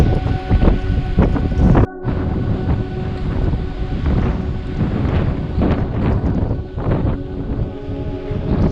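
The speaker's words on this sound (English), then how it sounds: "This is really windy." Strong, gusty wind on the peak of Mount Craig in the Black Mountains buffets the microphone in a loud, continuous roar, with one brief lull before the blustering resumes.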